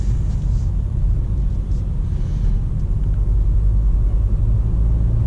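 Inside a 2018 Kia Soul Turbo driving over a rough road, a loud, constant low rumble of road and engine noise fills the cabin without pause.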